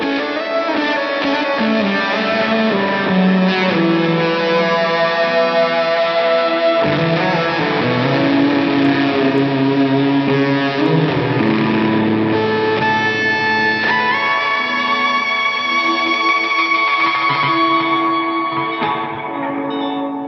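Sound design played through a guitar effects chain of delay, reverb for space, fuzz and a volume control: sustained, layered distorted tones with echoing repeats and shifting pitches washing on continuously, no talking.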